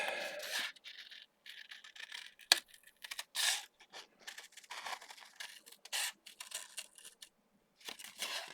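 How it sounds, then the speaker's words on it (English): Large scissors snipping through paper in a quiet room, a run of close, crisp cuts and rustles with short pauses between strokes while trimming a figure out. "so I don't mind using the big scissors"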